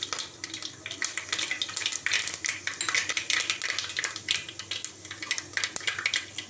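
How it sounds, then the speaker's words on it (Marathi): Mustard seeds and cumin frying in hot oil in a pan, a dense crackle of rapid pops and spits over a soft sizzle, close and continuous throughout. "मोहरी चांगली तळतळून द्यायची।"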